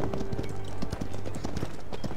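Rapid horse hoofbeats in the video game Paladins clatter in a quick galloping rhythm over a steady low hum, loud and close.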